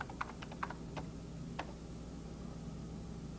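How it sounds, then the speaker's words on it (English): Faint keystrokes on a computer keyboard in a quiet office, a quick cluster of taps followed by one later isolated press over a low steady hum. "you would type in your employee number."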